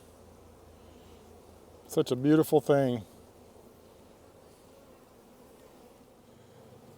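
Hawaiian honey bees in an opened hive give off a low, soft, steady buzz close by, with someone talking briefly over it.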